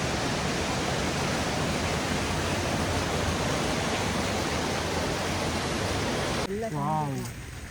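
A waterfall at Sonmarg in Kashmir pours in a loud, steady roar that fills the scene, then cuts away abruptly near the end to a brief, quieter moment with a voice.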